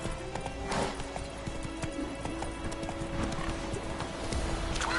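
A horse gallops in the video game The Witcher 3, with quick, steady hoofbeat clip-clops that sound near, set over a dense background of ambient game noise.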